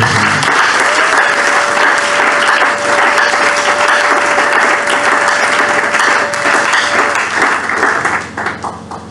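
A church congregation applauds during a service, with dense, loud clapping that keeps up for about eight seconds over a faint sustained tone, then thins and fades at the end.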